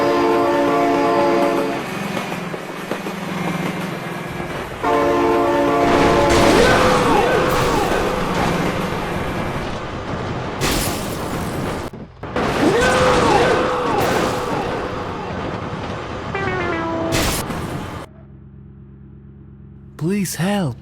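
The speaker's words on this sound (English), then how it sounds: "Oh my god, train!" A train in the BeamNG.drive video game sounds two long, loud horn blasts, then rushes past into a heavy crash of rumbling roar and repeated sharp metallic bangs and impacts that stop abruptly near the end.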